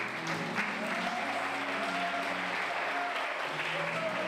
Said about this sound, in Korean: 뜨거운 박수를 보냅니다